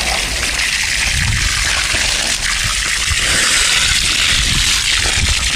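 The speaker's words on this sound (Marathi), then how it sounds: "बाकी पाईपामधून पाणी वगैरे चालू झालं आहे आता." Water gushes steadily from a pipe into a farm field in the Sahyadri hills, a loud, close and unbroken rushing flow with no voices.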